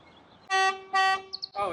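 A stock Rivian R1S car horn gives two short, loud toots in quick succession, followed by faint chirps and a brief voice.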